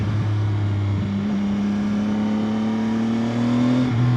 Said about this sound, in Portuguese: É muito bom o som da moto, mesmo da origem